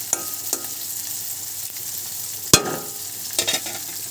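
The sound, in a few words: onions frying in a pan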